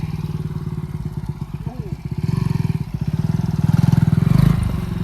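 A motorcycle rides and pops wheelies, its engine pulsing in a rapid close thumping beat that swells louder as it revs, with a brief voice mixed in.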